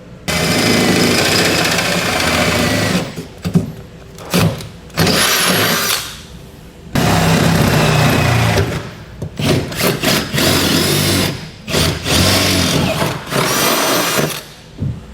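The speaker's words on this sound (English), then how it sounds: "Once we've got it all drilled out to the larger size" A power drill bores and enlarges holes to 9/16 inch in the steel frame of a 2015 Ford F-350 Super Duty, running in loud sustained bursts separated by short pauses.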